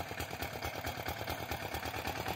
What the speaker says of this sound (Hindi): ये जो ट्रैक्टर है और ये जो स्प्रे का जितना भी सामान है वो जो है ओम प्रकाश राणा गांव कानडिकला ने खु